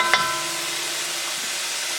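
Chicken sears and sizzles in a hot oiled pan for a chicken and broccoli stir fry, with a brief sharp hit at the start settling into a steady, close, continuous hiss.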